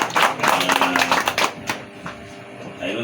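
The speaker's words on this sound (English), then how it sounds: "Big hand clap." Audience at a press conference for an upcoming concert breaking into hand claps: a loud, dense burst of clapping for about a second and a half that thins to scattered claps and room noise.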